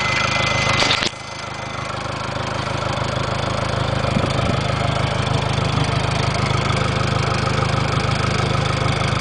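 A 2.2 liter Nissan NAPS-Z engine idles steadily and close by, a continuous low rumble with an even mechanical drone, broken only by a short click near the start.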